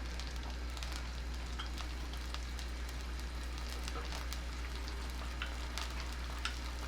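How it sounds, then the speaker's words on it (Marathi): Water for Manchow soup heating in a pan over high flame, a dense steady crackle of bubbling and sizzle with faint ticks throughout, over a low constant hum. "पाण्याला उकळी येऊ दे"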